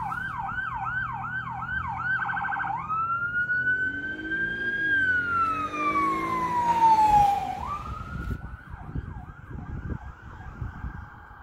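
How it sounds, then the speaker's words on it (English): A police car siren races down a small-town street, wailing then sweeping in long rising and falling tones before returning to a fast yelp, loud and steady throughout with traffic rumble beneath. "Police has to come racing down the street at 100 miles an hour."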